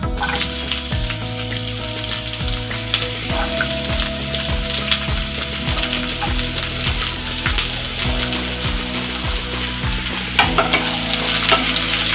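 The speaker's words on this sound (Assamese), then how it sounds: "কাটি থোৱা পিঁয়াজখিনিও দি দিম" Chopped onions and cumin seeds fry in hot oil, giving a loud, continuous close-up sizzle and crackle, with occasional stirring and a low hum underneath.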